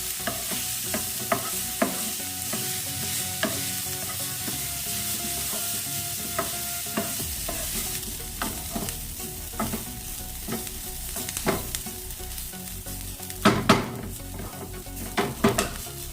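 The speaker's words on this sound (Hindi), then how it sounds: "इसके बाद गाजर, अब इसको मिक्स कर लेते हैं।" Carrots and bell pepper being stirred through a hot pan for a sunflower paratha filling, a steady sizzle of frying under repeated scraping and clinks of a utensil against the pan, with sharper clatters near the end.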